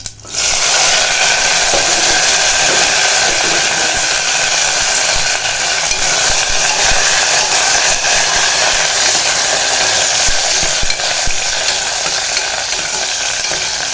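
Cut okra dropped into hot oil already crackling with mustard seeds, fenugreek and dried red chillies, a loud steady sizzle that holds unbroken for the whole stretch after an abrupt start.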